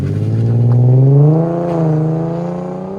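A 2001 Lexus IS 300 with a 3.0-litre 2JZ-GE inline-six and a Greddy cat-back exhaust revs loudly up close. The engine climbs to a peak, then settles back into a deep, smooth idle.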